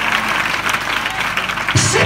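A church congregation breaks into sustained clapping during a worship service, a dense, steady wash of applause that runs the whole time and swells near the end, with a voice faintly mixed in.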